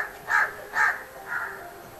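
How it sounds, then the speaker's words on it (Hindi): A crow caws three times in quick succession, harsh and fairly close, with the last call softer, against a quiet background. "ये देखिए एक और कौवा महाराज आ गए हैं। जब तक खाना नहीं मिलेगा, जब तक काँव काँव।"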